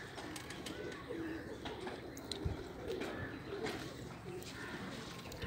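A baby pigeon coos softly in repeated short calls against a faint, busy background of rustling and small clicks.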